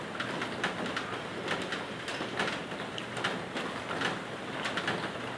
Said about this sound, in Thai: หลายๆคนตอนนี้อาจจะได้ยินเสียงฝนนะฮะตอนนี้มีฝนตกนะฮะ